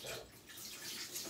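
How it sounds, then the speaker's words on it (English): A portion of water is poured into a blender jar for carrot ginger juice, a faint, continuous splashing and trickling heard up close with no speech over it. "putting a portion of water into it"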